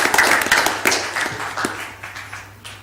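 Applause from a small audience at a city board meeting, a scattered burst of close hand claps that thins out and fades over about three seconds.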